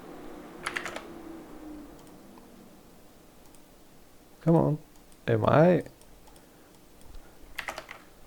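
Quick bursts of keyboard typing, close and crisp, separated by pauses, with a person speaking briefly between them.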